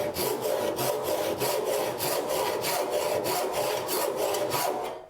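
A hand saw cuts wood along a marked trench line in fast, even back-and-forth strokes, roughly two per second, rasping close and loud throughout with no voices.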